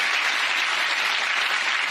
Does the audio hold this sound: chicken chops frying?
no